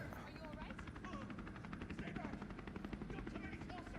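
Helicopter rotor thrumming steadily in the Resident Evil 3 game, a continuous rhythmic chop with gunfire-like crackle, under voices talking throughout.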